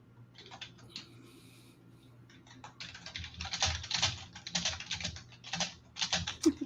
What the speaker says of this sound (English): typing in the private chat is so loud on the mic